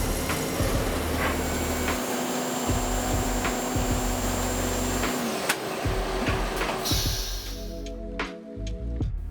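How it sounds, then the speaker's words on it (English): A CNC mill machines a doweling jig attachment, giving a steady loud whine and hum with a sustained tone that shifts partway through, then rhythmic stepped cutting pulses near the end. "the doweling jig attachment is machined at another CNC mill"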